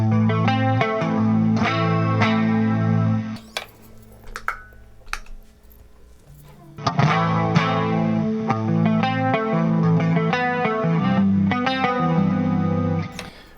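An electric guitar through a BOSS chorus pedal, CE-2W or CE-5, plays chords and notes with a shimmering chorus effect, pausing briefly in the middle before resuming, bright and clear.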